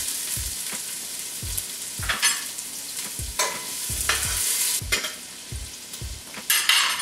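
Diced yellow onion sweats in butter in a pot, a steady sizzle running throughout while a spoon scrapes and stirs in repeated strokes, each bringing a brief scraping burst up close.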